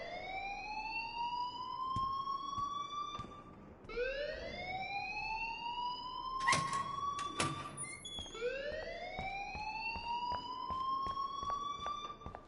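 Alarm blaring in the video game Life is Strange, a rising wailing siren that repeats in long sweeps, loud and continuous, with a few sharp bangs midway.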